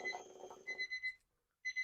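A super loud alarm clock with a bed shaker rings in short, shrill pulsing bursts, four quick beeps in a row followed by a brief silence and then more beeping, fairly faint and with no voices.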